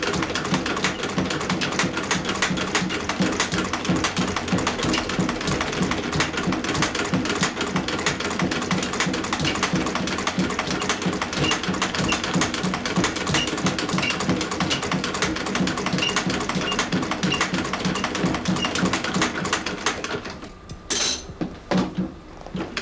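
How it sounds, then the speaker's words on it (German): A roughly 100-year-old foot-operated saddler's sewing machine stitches leather and fabric with hemp thread, a fast, steady mechanical clatter that runs for about twenty seconds, then stops with a few brief knocks. "Die Sattler-Nähmaschine ist rund 100 Jahre alt und noch fußbetrieben."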